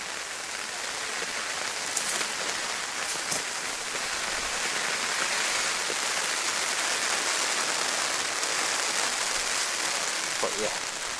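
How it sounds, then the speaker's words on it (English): Heavy rain pours steadily at Manchester Airport, a dense continuous hiss of drops hitting surfaces close by, loud and unbroken for the whole stretch with no voices over it. "we're right in the middle of a red bit of heavy rain"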